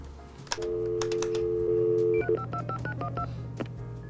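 Touch-tone dialing from a computer placing a phone call: a long steady tone, then a quick run of distinct DTMF beeps, with clicking keystrokes scattered throughout.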